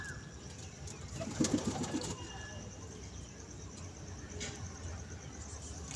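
Pigeons kept at a home loft for sale give low cooing calls, clearest in a short burst early on, over a constant hiss of background noise and faint human voices.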